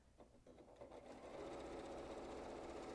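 A sewing machine runs a long, steady stitch, quilting decorative lines along a reversible fabric placemat; the motor starts with a few stuttering pulses and then settles into a continuous, close, even whir with no speech.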